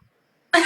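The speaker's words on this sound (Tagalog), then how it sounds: "Simula pagpasok ko, may ubo." A single sharp cough bursts in after half a second of near silence, close and loud, cut off at the end.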